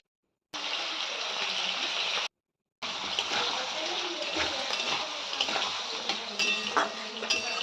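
Pumpkin pieces fry in fish oil in a pan, giving a steady close hiss of sizzling that cuts out briefly, then resumes with soft scrapes and stirring clatter.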